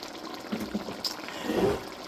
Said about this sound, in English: I'm gonna let it simmer down a little bit